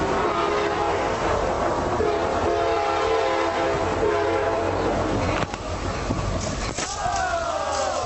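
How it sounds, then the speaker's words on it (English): A huge train races along railroad tracks with a loud continuous rumble and roar, a horn-like tonal blast over it, and a brief sharp crack midway, sounding close and overwhelming. "a guy standing on railroad tracks as an enormous train speeds toward him"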